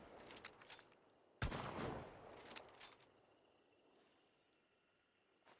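A new unique weapon fires with recoil in a video game: a few quick bursts, then one loud punchy shot with a decaying tail, then another short volley, all fairly quiet before fading to near silence.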